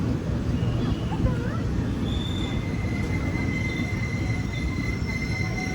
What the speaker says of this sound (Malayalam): ഇപ്പോൾ ഇതുവഴി ഒരു ട്രെയിൻ കടന്നു പോകും. സ്റ്റോപ്പൊന്നുമില്ല. മംഗളൂരു താമ്പര എക്സ്പ്രസ് അതിവിടെ എത്താനായി.